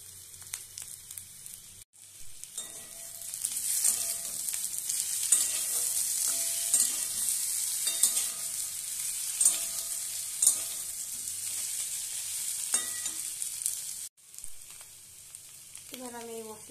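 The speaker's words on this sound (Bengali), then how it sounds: "তো আলুগুলো আমার ভাজা হচ্ছে, এটা অল্প একটু ফ্রাই হলে আমি মশলাটা দেব।" Unpeeled potatoes fry and get stirred in a pan for aloo dum, giving a steady close sizzle with repeated scraping stirs and a brief pause near the end.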